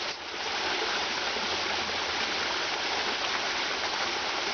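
Steady rushing of a small waterfall, a continuous broadband roar of falling water that stays even and close throughout with no voices.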